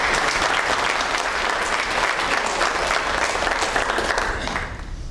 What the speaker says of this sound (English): Let's give him a round of applause for Nathan Dean.